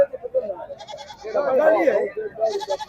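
Goats bleating amid a busy crowd at an outdoor goat market, with people talking loudly and haggling over the animal calls.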